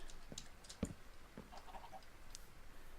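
Chickens clucking in the Voltz Minecraft game, a few faint, scattered clucks in the background with no talking.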